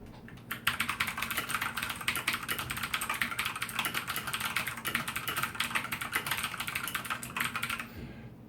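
Rapid, dense clatter of a Redragon K552 Kumara mechanical keyboard being typed on quickly and continuously, a loud, steady stream of overlapping key clicks heard alone up close.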